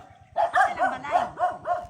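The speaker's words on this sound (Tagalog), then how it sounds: "Ay, may aso man." A dog barks nearby in a quick series of about six sharp, yappy barks.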